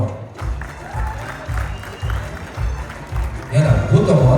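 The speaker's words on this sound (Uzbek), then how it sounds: "Qani biroz qasaklama olqishlab turamiz" Audience applause at an award ceremony for a patriotism-themed scientific-practical contest, a steady burst of clapping from a hall crowd with a voice speaking over it.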